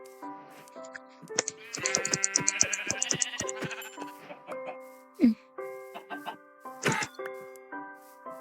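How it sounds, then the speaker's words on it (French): Several sheep in the Minecraft video game bleat in short separate calls over a backdrop of steady game music notes, with one louder bleat standing out near the end. "Oh, un mouton, let's go."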